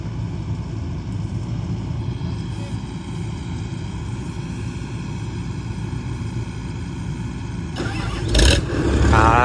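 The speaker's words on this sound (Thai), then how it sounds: "ครับเสียงสตาร์ทรถเกี่ยวเริ่มแล้ว" A combine harvester's heavy engine rumbles steadily at idle, loud and close, then revs and roars louder near the end as it starts up.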